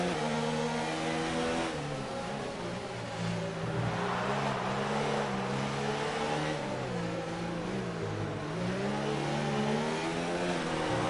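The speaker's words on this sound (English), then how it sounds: "Really revving out first gear" An F1 2019 racing car in the video game, racing at Singapore, its engine revving hard through first gear with rising and falling whines that repeat in quick shift cycles, loud and continuous with no talking.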